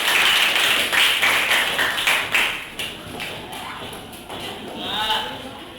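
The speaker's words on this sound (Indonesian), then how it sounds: "tepuk tangan untuk kelompok 2" A classroom group applauds another group, with a burst of quick, close hand claps rising and fading over several seconds alongside a voice speaking.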